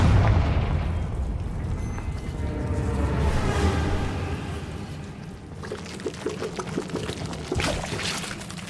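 A Confringo fire spell blasts in Hogwarts Legacy, a loud rumbling burst with a pouring, crackling roar that sustains for several seconds before fading into lighter crackles.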